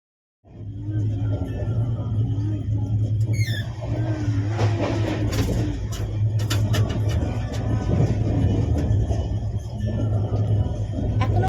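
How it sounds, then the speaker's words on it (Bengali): The 12303 Poorva Express runs along with a steady low rumble and a constant drone inside the coach, plus occasional squeaks and rattles over the track, with no talking. "এখনো পর্যন্ত ট্রেন খুব ভালো ছুটছে।"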